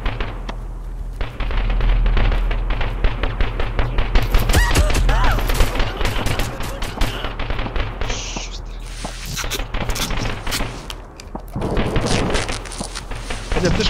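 Rapid bursts of gunfire and explosions fill a round of the video game Dead Raid as a turret blows up, a dense, continuous crackle and booming with faint voice underneath.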